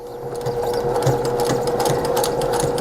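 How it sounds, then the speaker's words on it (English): Sewing machine stitching together fabric squares for a small tote bag, a close, steady mechanical whir with a fast rhythmic ticking of the needle running throughout. "Put it under my presser foot. Start sewing."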